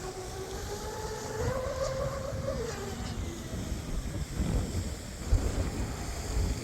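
Gusty wind buffets the mic beside a Deltaforce 29 twin mono RC boat with a Leopard X2 motor and OSE 90A setup out on breezy water, a steady broadband roar with a rising motor whine early and a brief voice.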